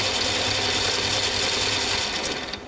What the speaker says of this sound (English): I'll start the lathe up and you'll be able to hear that it's still quite quiet